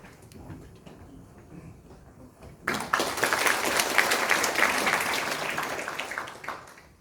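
After a few quiet seconds, an audience breaks into warm applause to welcome a National Assembly lawmaker at a ceremony, rising sharply and holding as a steady crowd of clapping hands.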